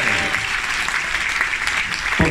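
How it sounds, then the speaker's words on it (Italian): Audience applause for the cruise director during a cabaret show aboard the MSC Lirica cruise ship, a steady dense clatter of many hands clapping throughout, loud and sustained. "Un applauso al nostro direttore"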